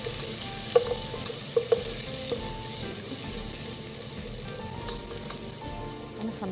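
Onion frying in a spoonful of ghee for a red pasta sauce, a steady close sizzle broken early by a few sharp utensil clinks and stirring scrapes, with no talking.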